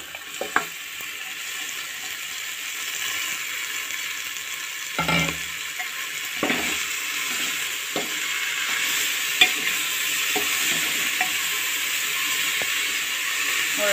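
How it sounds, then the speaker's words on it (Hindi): Spinach frying in a pan for palak moong dal: a steady, fairly loud sizzling hiss runs throughout, with occasional spatula scrapes and stirring knocks, close by and without talking. "अच्छा कम से कम 5 मिनट भूनेंगे पालक को"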